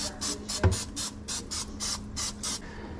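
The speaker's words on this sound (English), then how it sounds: "So we're gonna take our air fryer pan and spray it with some oil." Short repeated bursts of oil spray hiss onto an air fryer pan, about nine quick pumps in a steady rhythm, close and fairly quiet, with a small knock partway through.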